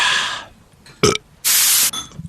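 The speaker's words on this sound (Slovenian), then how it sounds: "Če si rigno." A man's loud burp, alone and abrupt, joined by a long hiss of spray from a can, with brief sounds before and after, during a comedic New Year sketch.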